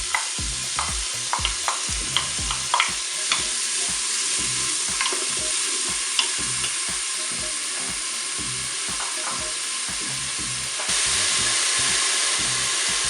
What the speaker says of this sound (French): l'huile commence à être chaude. Je vais mettre mes oignons et l'ail coupé en morceaux